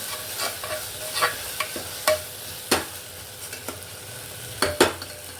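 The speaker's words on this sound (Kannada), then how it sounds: "ನೀರಿನಂಶ ಡ್ರೈ ಆಗಿ ಎಲ್ಲ ಸ್ವಲ್ಪ ಎಣ್ಣೆ ಮೇಲೆ ತೇಲ್ತಾ ಇದೆ ನೋಡಿ ಈ ಥರ ಚೆನ್ನಾಗಿ ಫ್ರೈ ಆಗಬೇಕು" Tomato rice masala fries in oil in a pan, a soft continuous sizzle broken by sharp scrapes and taps of a spoon as the mixture is stirred at irregular intervals, with no talk.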